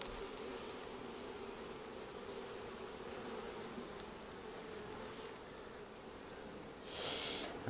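A steady, close drone of honey bees, many of them winter bees, crawling over a hive frame with sealed stores, pollen and some drones in mid-October, unbroken by any voice.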